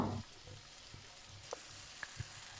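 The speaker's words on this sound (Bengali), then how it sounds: "পেঁয়াজটা ভালো করে ভাজা হয়ে গেলে এর মধ্যে ওই বাটা মশলাটা দিয়ে দেব" Chopped onion sizzles faintly in a pan while cooking a fish-head and green jackfruit curry, with a few soft stirring taps over a quiet, steady frying hiss.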